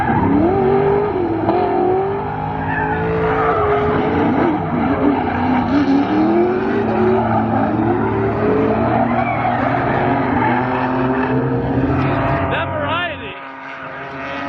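Drift cars tear around the track at a drifting event in Australia, loud engines roaring and revving continuously with tire squeal layered on top, a voice faintly under the din.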